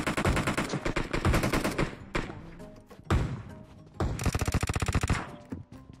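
Video game gunfire in PUBG Mobile, loud rapid bursts of automatic fire with heavy thumps between them, several close volleys in quick succession.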